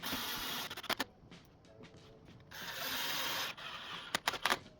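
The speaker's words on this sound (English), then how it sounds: "We also want to add a couple screws in here just for a little bit of extra security" Pan head screws, 1 5/8 inch, driven into a large puppet frame during assembly, each giving a buzzing whir of the driver in two sustained bursts, with clicking ratchet-like ticks in between, close and fairly loud.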